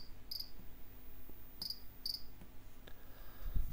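An Arduino Nano driving a passive buzzer to mimic a cricket: sharp, high electronic chirps heard as one, then a pair, spaced over a few seconds against a faint background.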